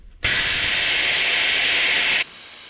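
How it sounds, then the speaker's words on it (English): Loud, steady hiss of compressed air venting from the air suspension springs of a Prevost XLII bus, starting abruptly and running for about two seconds before cutting off to a fainter hiss. "I'm going to get the air released out of these springs."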